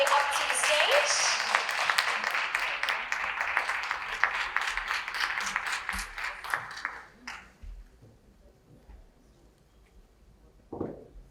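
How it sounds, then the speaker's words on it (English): An audience at a health conference panel in Dubai applauds as panelists take the stage: dense, sustained clapping for about seven seconds, fading out, then a quiet room with a brief sound near the end. "A round of applause as they make their way up to the stage."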